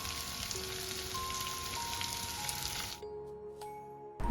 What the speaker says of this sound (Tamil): நல்லா எண்ணெயில் வதக்கிக்கலாம்.